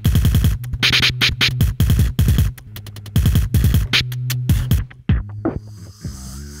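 A beatboxer's loopstation scattering effect chops a layered beat into rapid stuttering slices and gated bursts, with punchy low kicks and hissy cuts breaking up and fading into a sparse tail near the end.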